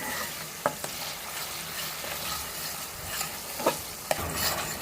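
Spice paste with ground ginger and green chilli frying in oil for a Bengali fish curry, a steady sizzle with several sharp scrapes and taps of a spatula against the pan, close and fairly loud.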